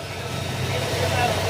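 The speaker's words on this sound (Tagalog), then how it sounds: "bibiritin ko siya bali malamig pa yung makina niya" Honda Click 125 scooter with a cold engine, being revved, running steadily with a low throbbing hum and rising intensity, close by; a voice talks over it.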